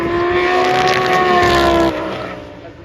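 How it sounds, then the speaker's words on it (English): GT race cars, including a Porsche, roar hard under acceleration through Clearways at Brands Hatch during a Masters GT Trophy race, a loud sustained engine note that drops in pitch as they pass close by. "As the Porsche gets alongside him, he's holding Santordov wide."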